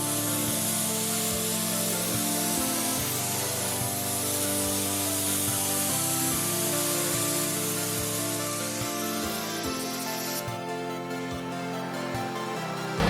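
A spray gun lays clear coat, with some flake in the first coat, on a Nissan S13 body in a paint booth. A steady, loud hiss runs unbroken with faint compressor hum underneath and no talk.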